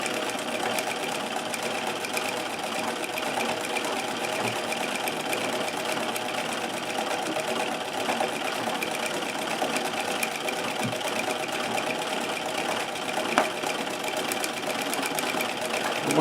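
Singer 237 sewing machine running continuously at a steady, moderate speed while sewing free motion embroidery underlay filling stitches, a constant mechanical hum and rapid clatter with no talk.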